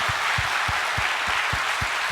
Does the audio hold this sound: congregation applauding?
yes